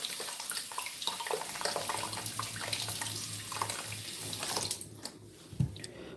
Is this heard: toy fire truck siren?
no